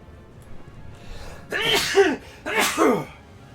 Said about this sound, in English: That sneeze made me dizzy.